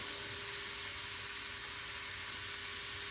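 Shrimp fry in a pan, a steady, loud, continuous sizzle with a faint stirring texture, no voices.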